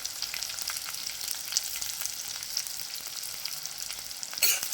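Mushrooms sautéed with curry leaves in a pan for Tamil-style mushroom thokku, giving a steady close sizzle and frying hiss with faint stirring scrapes throughout and a brief louder clatter near the end.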